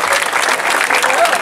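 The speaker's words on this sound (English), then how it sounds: "I want another nice round of applause for Dale." Quick burst of audience applause at a sea lion show at a state fair, a dense, loud wash of clapping from spectators with a voice faintly underneath.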